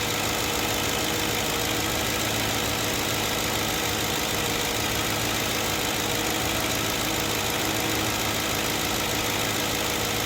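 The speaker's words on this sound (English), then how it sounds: "you can actually hear the actual engine idle" A 2008 Ford Crown Victoria Police Interceptor engine idles steadily up close, a constant mechanical hum with a faint knocking texture throughout, no talking.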